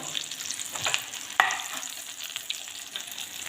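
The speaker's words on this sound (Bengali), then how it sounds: "খুব সুন্দরভাবে ফুলকপির পকোড়া লাল লাল ভাজা হয়ে গেছে" Gentle crackling and sizzling of cauliflower fritters frying in oil, steady and fairly quiet, with a couple of soft clinks from a utensil.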